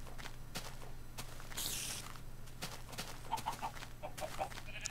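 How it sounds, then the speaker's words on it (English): Minecraft chickens around a player walking through the game, faint clucks and soft chirps scattered among footstep taps and rustles, all quiet and close. "Lots of chickens. Crazy amounts of chickens."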